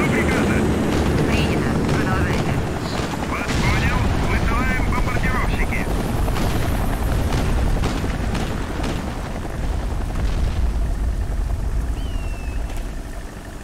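A helicopter in the shooter game Sniper Ghost Warrior drones loudly and steadily throughout, its rotor roar mixed with booming rumbles while someone talks over it for the first few seconds.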